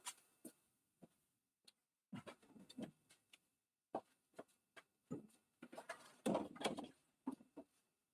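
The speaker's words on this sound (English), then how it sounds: "Let me close this door." A wooden door in a woodturning workshop is pulled shut, giving a scattering of faint knocks, clunks and rattles in several separate bursts, with no one talking.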